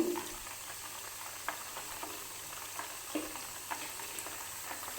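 Buffalo butter sizzling and crackling steadily in a pan as it cooks down into ghee, a continuous close frying hiss dotted with small pops and bursts, with no voices.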